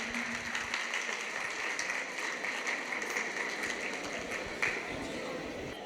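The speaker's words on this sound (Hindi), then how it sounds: "एक बार जोरदार तालियां हो जाए आपकी" Applause from an audience at an academy felicitation ceremony in Malout, Punjab, a steady, fairly distant patter of clapping with a constant hum underneath and no clear pauses.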